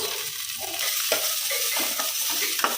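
Onions with curry leaves fry and are stirred in a pan, a steady close sizzle with scraping strokes of a spoon breaking through at intervals, no talk.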